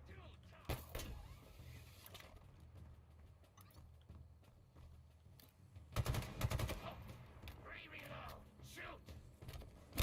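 Gunfire in the video game Control, bursts of rapid shots with sharp cracks around the start and a heavier volley midway, under game noise and someone talking.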